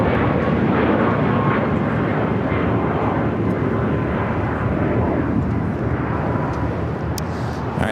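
A Lufthansa Boeing 747 taxis at LAX with a loud, steady, broadband engine roar that holds continuously without pause.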